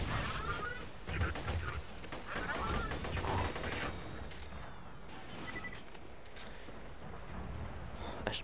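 SMG fire rattles in Borderlands 2 combat, rapid bursts of gunshots mixed with other game effects, dense through the first few seconds and then thinning into scattered shots, with a voice talking over parts of it.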